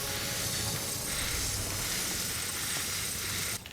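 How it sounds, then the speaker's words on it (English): A decontamination spray hisses over a suit in the video game Death Stranding, a steady, even broadband hiss that holds for several seconds at moderate level and cuts off abruptly near the end. "Decontaminating suit. Let me spray my business because I've just been running around in the rain."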